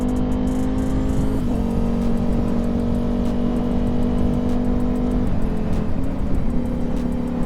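Ducati Panigale V4 motorcycle fitted with a Spark exhaust idles with a loud, steady engine drone, broken by two quick throttle blips around the middle and near the end.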